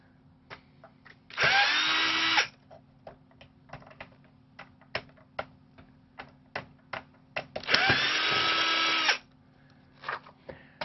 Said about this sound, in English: I love to hear that snap when the screw turns loose for the first time.